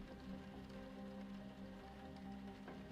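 Steady rain patters across a city street with slick black asphalt, a continuous, even wash of drops with no talk over it.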